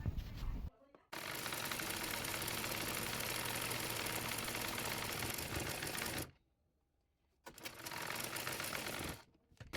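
Sewing machine stitching printed blouse fabric for a size 38 princess-cut blouse, running in long steady bursts of rapid mechanical clatter with two short pauses between runs, close and fairly loud with no talk.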